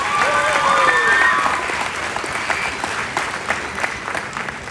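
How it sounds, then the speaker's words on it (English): Crowd at an Arizona livestock show market drive applauding the young exhibitors, a dense burst of clapping that stays steady and fairly close, with a speaking voice briefly over the start. "let's give these kids a big round of applause one more time"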